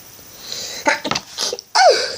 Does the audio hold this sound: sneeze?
yes